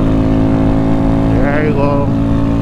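A Honda Grom motorcycle held at full throttle, its engine a steady, loud, continuous drone close to the rider, with a brief higher tone and a voice rising over it midway.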